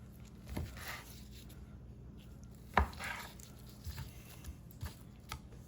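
A knife chops ingredients for pineapple rice in a home kitchen, with a few soft, scattered cuts and one sharper, louder chop near the middle over a quiet background hum.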